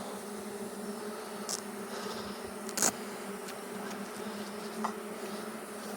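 A honeybee swarm hums in a steady, dense drone, buzzing continuously with occasional sharper clicks and individual bees passing close.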